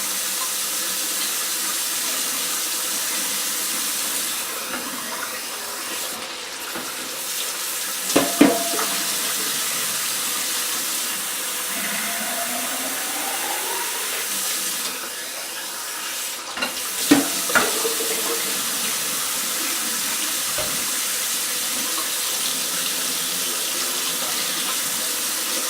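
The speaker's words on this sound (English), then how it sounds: "just rinse out the bong completely using hot water" Hot tap water runs into a glass bong as it is rinsed, a continuous close splashing rush with a few louder knocks and clunks of glass being handled around eight and seventeen seconds.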